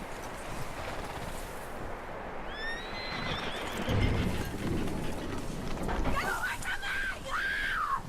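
A horse in Red Dead Redemption 2 whinnies twice, a rising squeal then a longer wavering neigh later, heard close over a background of ambient noise, hoof movement and speech.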